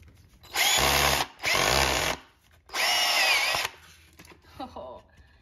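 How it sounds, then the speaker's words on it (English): A power drill whirs loudly in three bursts, each about a second long with short pauses between, followed by faint handling noises, while assembling a canvas frame. "I'll try to drill this time."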